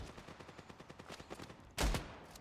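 Rapid gunfire in the mobile shooter Standoff 2, a quick run of evenly spaced shots ending in a louder, heavier blast, all close with no talking over it.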